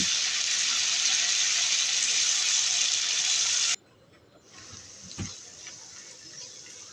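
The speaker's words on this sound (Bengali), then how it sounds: "শুটকিটাকে ভালোভাবে কষিয়ে নেওয়ার জন্য দিয়ে দেব সামান্য একটু পানি" Water pours in a steady loud hiss for several seconds into a pan of dried fish being fried with spices, then cuts off, leaving a quieter sizzle with a small knock.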